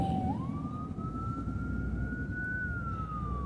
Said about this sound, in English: And excuse the sirens.